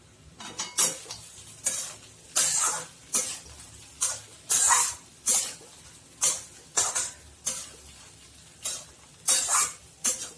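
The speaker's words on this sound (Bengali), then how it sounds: "এবার ঢাকাটা খুলে একটু নাড়িয়ে দেবো।" A spoon scrapes and stirs leftover chapati upma in a pan, about a dozen distinct scraping strokes in an irregular rhythm, close and clear, with no talking.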